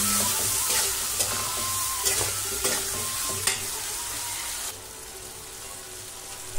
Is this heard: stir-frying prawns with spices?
yes